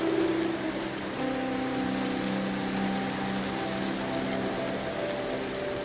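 Steady rain falls in the Infinity Nikki video game, an even wash of drops under faint sustained tones, continuous throughout.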